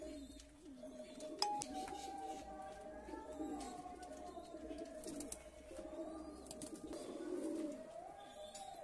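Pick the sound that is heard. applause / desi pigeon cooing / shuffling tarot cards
desi pigeon cooing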